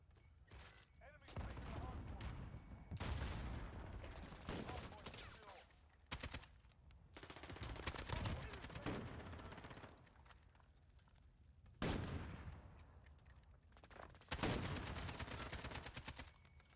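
Rapid video-game gunfire in repeated bursts, loud and close, some rattling like automatic fire, with dull thuds and quieter gaps between volleys while a player talks over parts of it.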